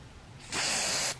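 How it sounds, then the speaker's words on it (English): Corrosion inhibitor sprays from a can onto a rag in one loud, even hiss that lasts about half a second and then stops abruptly. "spray it on a rag."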